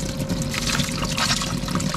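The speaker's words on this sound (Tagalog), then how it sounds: "Para ma-start up natin yung pump" Water trickles and pours steadily as a primed pump runs in a DIY kayak livewell cooler, with a continuous close gurgling flow and a low motor hum underneath.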